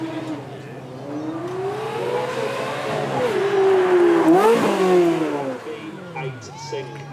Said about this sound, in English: This is a proper pure blood Ferrari with the V8 in the back of it, naturally aspirated, and F1 gearbox in the middle of it.